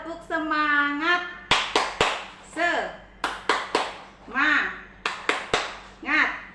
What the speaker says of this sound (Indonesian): Kita tepuk semangat bersama-sama ya.